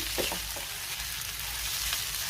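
Chole masala with coriander sautéing in a pan, a steady close sizzle with a few soft stirring scrapes near the start, no voices.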